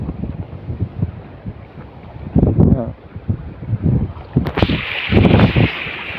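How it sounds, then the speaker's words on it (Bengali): Strong wind buffets a microphone beside the Padma river, a steady low rumble with louder gusts, while people talk over it. "এত বাতাস হচ্ছে"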